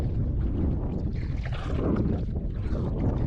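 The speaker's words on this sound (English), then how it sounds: "Getting windy around here." Steady wind rushes and buffets the microphone continuously during a canoe trip in Temagami, a low roaring blow with faint water movement underneath, no voices.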